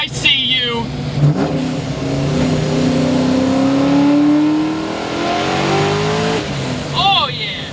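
A 620-horsepower Mystic Cobra accelerates hard in third gear, its engine note rising steadily and loudly up close for several seconds. Excited voices are heard around it.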